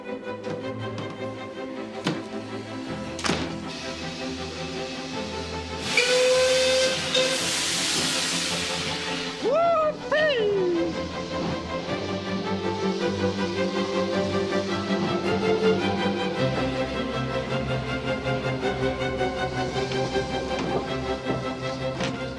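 A steam train at Bo'ness departing, with a long loud burst of hissing steam, a couple of sharp clanks and steady rumbling of the engine, heard alone without voices.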